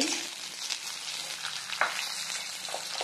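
Garlic sizzles and crackles in hot oil for a vallari leaves chutney, a steady close frying hiss with a few sharper pops and stirring scrapes, no voices.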